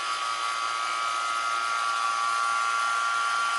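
Vacuum chamber pump running steadily, a loud continuous high whine with a broadband hiss and a faint low pulsing underneath, unbroken from start to finish with no voices.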